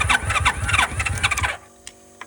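A car engine cranks hard on a jump pack after a crossed solenoid, a loud rhythmic churning of the starter for about a second and a half, then it cuts off to near silence with a couple of faint clicks.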